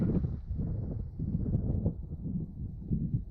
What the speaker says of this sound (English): it's still breezy